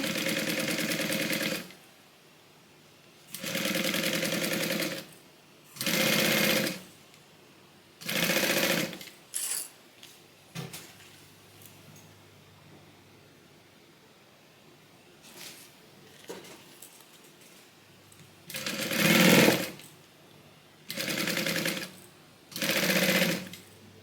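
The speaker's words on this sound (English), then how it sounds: "I'm just going to adjust it as I sew." A sewing machine stitches a fabric Bible cover in several loud, steady bursts of whirring, separated by pauses with soft handling clicks, and no talk over it.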